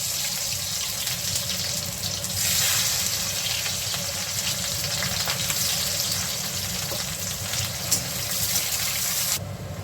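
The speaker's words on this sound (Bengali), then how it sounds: "আমার তেলটা এখন গরম হয়েছে, এর মধ্যে আমি পেঁয়াজ দিয়ে দিচ্ছি" Onion hitting hot mustard oil in a pan, a loud, dense, hissing sizzle that surges and holds steady for several seconds, with a faint tap or clink partway through.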